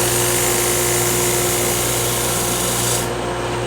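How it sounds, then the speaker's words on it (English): A loud, steady electric inertial sander whirs and rasps against a wooden platter at close range, its hum holding constant until a slight change near the end. "Inertial sander."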